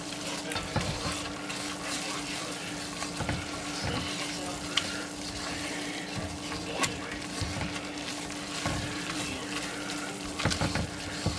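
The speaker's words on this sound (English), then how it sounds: "Just keep whisking." Cheesy broccoli soup whisked in a pot, a steady bubbling simmer with repeated light scraping and clinking strokes of the whisk, close and continuous without talk.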